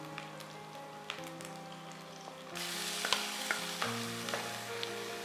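Chicken mince frying with onion, ginger and garlic, a bright sizzle that jumps louder partway through as the meat hits the pan, with occasional stirring clicks over a steady background tone.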